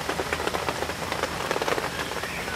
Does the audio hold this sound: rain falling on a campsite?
yes